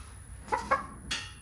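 A few short, soft clucks from a chicken, two close together and another a moment later, over a faint steady background hum.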